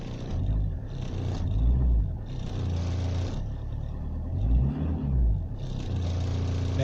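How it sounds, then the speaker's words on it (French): A Fiat Stilo's engine runs after starting, a steady low rumble with two brief swells in revs, close and alone with no talk. "La voiture elle démarre."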